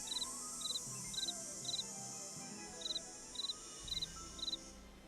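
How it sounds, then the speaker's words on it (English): Crickets chirp at night in deep woods by a lake: eight short, high, evenly spaced trills repeat steadily at moderate loudness over a low background hum, with no talking. "I hear chirping."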